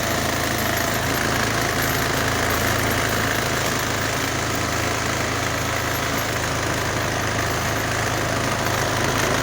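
A Honda 2.4 kW inverter generator with electronics problems runs in economy mode, giving a loud, close, steady engine drone with a rough, knocking texture that holds unchanged throughout.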